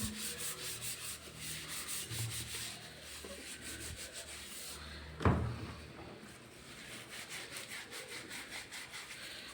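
A steel wire brush scrubbing inside a tea bottle, rhythmic rough rubbing strokes close to the listener, with a single sharp knock midway and steady scrubbing continuing after.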